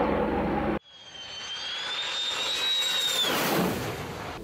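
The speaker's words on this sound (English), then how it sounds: "why is this helicopter circling my house?" A helicopter circling overhead above a house gives a steady droning whine with an underlying rumble, starting abruptly and holding fairly loud and even as it passes.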